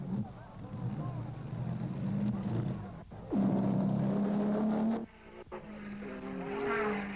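A 1957 Formula 1 race car laps the Reims circuit in the French Grand Prix, its engine droning loud and close with rising and falling pitch as it rounds Tilloy, then fading.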